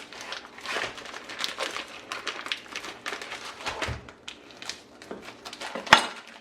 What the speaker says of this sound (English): The leaf fat is vacuum sealed in here, and as I mentioned, we only want a tiny piece of this. We don't want too much of it. Just going to cut it open.